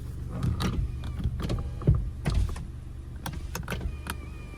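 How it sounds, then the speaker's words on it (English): A 2016 Honda Accord Sport's automatic power window moves in a short motor whir inside the cabin, with faint clicks and low rumble around it and no talking. "The driver's side window is fully automatic."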